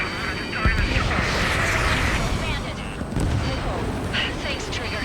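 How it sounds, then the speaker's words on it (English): A fighter jet fires a missile in the combat flight game Ace Combat 7, a loud rushing roar over a dense, continuous backdrop of engine noise and explosions, with radio voices talking throughout. "Firing. Strider 1, missile away."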